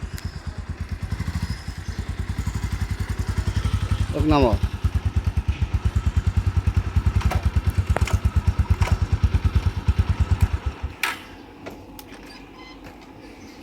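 Motorcycle engine idling close by in a steady, rapid low chug that holds for about ten seconds before it cuts off, while people talk over it and a short rising squeak cuts in midway.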